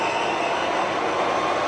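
A Summit gap bed engine lathe spindle turns at 1010 RPM, giving a steady, even mechanical whir with no variation over a couple of seconds and no talk.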